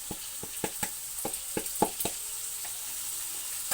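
Lentils stirred into a hot pot with onion mixture, giving a soft steady sizzle under a series of sharp, evenly spaced spoon knocks against the pot, close and fairly quiet.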